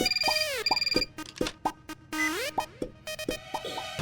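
A phone's electronic ringtone plays in a quick repeating pattern of bright chirping tones and blips, loud and close with no talking over it.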